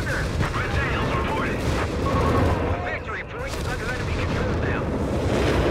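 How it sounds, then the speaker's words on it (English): Dense, continuous rumbling blasts from an incendiary barrage in Company of Heroes 3 fill the mix, loud and sustained with crackling bursts, while a commentator talks over the battle noise. "Oh, the incendiary barrage from the bulldozer."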